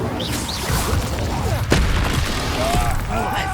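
An Incendio fire spell is cast during combat in Hogwarts Legacy, giving a burst of fiery whooshes and a sharp boom among bright magical chirps, with game noise and faint voices around it.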